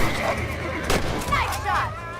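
Gunshots in Red Dead Redemption crack out as a few sharp, close reports in quick succession amid game ambience, with no clear talk during the burst.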